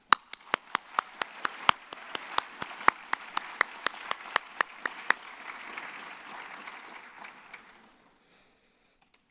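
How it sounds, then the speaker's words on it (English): Applause for the Simi Valley Youth Council at a youth town hall: a few sharp, evenly spaced claps ring out prominently over softer crowd clapping, which fades away into near silence at the end. "let's give the Simi Youth Council a round of applause"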